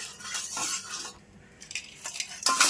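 Crabs frying in hot oil in a wok give a bright sizzle in bursts. Utensils scrape and clatter against the metal as the crabs are stirred, with a short quieter gap before the sizzle surges again.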